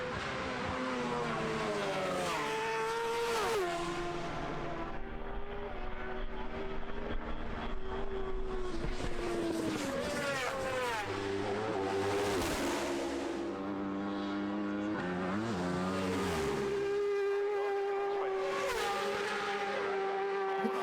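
Racing motorcycles at the Isle of Man TT road race, engines screaming loudly at high revs with pitch sweeping up and down through gear changes as the bikes blast past, sustained and alone without talk.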